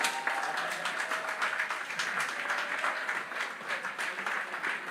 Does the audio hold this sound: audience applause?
yes